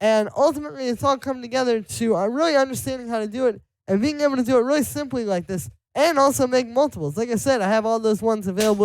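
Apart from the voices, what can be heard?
No distinct noise like a dog, phone or traffic.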